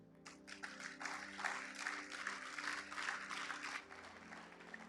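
A church congregation applauds together, a steady, moderately distant patter of many hands lasting several seconds, with a low sustained tone lingering beneath the clapping.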